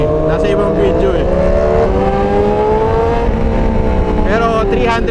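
A Ducati Panigale V4 fitted with an FM Projects full titanium system and dual exits, its engine revving and rising in pitch with sweeping harmonics, loud and close, with a voice talking over parts of it.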